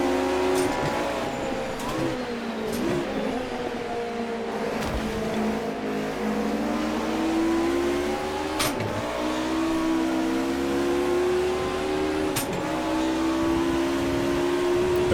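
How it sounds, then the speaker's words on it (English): Onboard engine of a Mercedes Group A touring race car in the racing sim Automobilista 2, revving and shifting continuously with rising and falling pitch, loud and close, punctuated by brief gearchange cuts. "Really neat sounds here on board the Mercedes."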